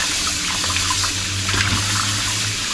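Raw meat rinsed under a running kitchen tap, a steady loud gush of water splashing into a sink with a low hum beneath, close and continuous, with no talking.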